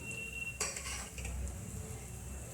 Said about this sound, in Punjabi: ਮਸਾਲੇ ਨੂੰ ਮਿਕਸ ਕਰ ਦਵਾਂਗੇ